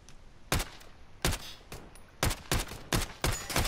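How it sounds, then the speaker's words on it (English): Rapid gunfire rings out in Modern Warfare gameplay: several sharp, loud bursts of shots in quick succession, separated by brief gaps, with no talk. "there should be no way that he fired that many bullets that fast"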